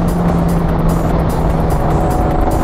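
A track car driving fast through the uphill esses at Virginia International Raceway, with a loud, close, continuous engine drone at high speed and no break in the sound.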